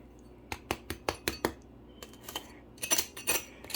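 Crisp crust of freshly baked roasted-garlic focaccia being tapped or pressed, a series of sharp dry crackles and knocks in uneven bursts, close and fairly quiet with no talk.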